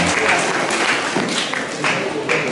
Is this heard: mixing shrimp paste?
no